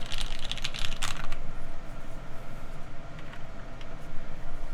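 Steady typing on a mechanical keyboard with GMK Hyperfuse keycaps, rapid dense keystrokes clattering close up over a faint background hum.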